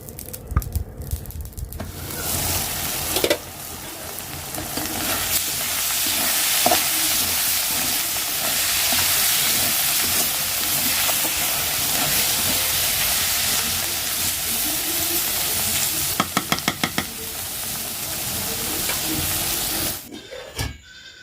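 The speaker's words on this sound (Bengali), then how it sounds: "এখানে শাকটা ঘাটি করে ফেলছি" Leafy greens (shak) cooked with a fish head sizzle and fry in a pan while being stirred, a steady hiss of frying running throughout with occasional scraping and clinks near the end.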